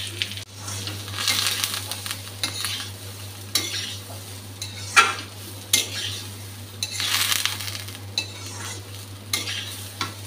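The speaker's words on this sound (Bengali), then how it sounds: "ডালটা ভাজা হয়ে গেছে ভালোভাবে" Lentils fried with turmeric in a pan give a steady low sizzle, broken by repeated scraping and stirring strokes of a spoon against the metal, with no talk.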